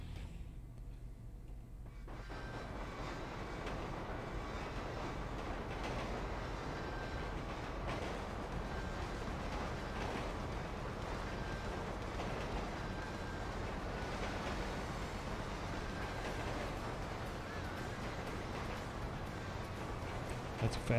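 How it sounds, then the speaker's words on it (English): A fast train in a video game rumbles steadily and continuously at close range, a sustained mechanical roar with faint clatter, running without pause throughout. "Fast train right there."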